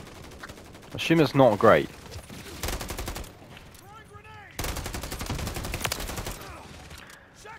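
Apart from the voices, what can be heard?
gunfire in the Call of Duty video game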